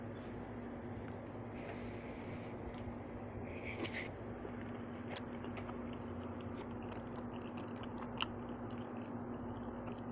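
Chewing and biting sounds as someone eats sliced Korean rice cakes and kimchi in black bean chili sauce, with soft crunches over a steady background hum.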